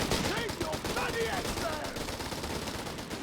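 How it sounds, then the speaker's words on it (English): Gunfire crackles through a Company of Heroes 3 battle, with a 2-pounder anti-tank gun firing amid dense, continuous shots and bursts, loud and busy, while a voice talks over the action. "Oh, losing Ludwig there to a 2-pounder gun shot right for his face."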